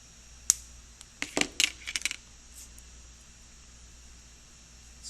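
Sharp little snips from wire cutters trimming jewelry wire, a quick run of close, bright metallic clicks bunched together over about a second, then quiet room hiss with no talking.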